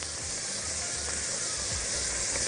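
Chicken livers dropped into a hot pan with softened onions give off a steady, even sizzling hiss that holds unbroken throughout, with no voices.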